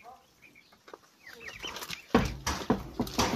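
Chickens and guinea fowl cluck and call on a farm, a few soft calls at first, then louder, denser clucking and squawks crowding in over the second half.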